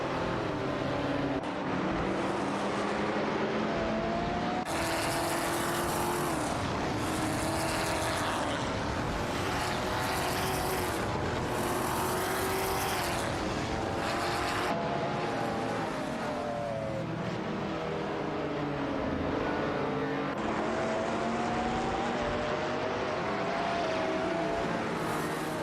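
Race cars including a Dodge Charger Dayton racing and overtaking in a video game, a continuous loud engine roar with repeated rising and falling revs and gear changes as cars pass one another.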